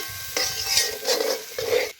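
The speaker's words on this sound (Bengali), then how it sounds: "চিনিটা দেওয়ার কারণ হলো লবণ মিষ্টি ঝাল পিঠেটা আরও বেশি স্বাদ বাড়াবে ওই জন্য আমি চিনিটা দিয়ে দিলাম দিয়ে মিশিয়ে নিলাম" A spoon scrapes and stirs sugar through a thick savoury pitha filling in a bowl, three short bursts of gritty mixing close by.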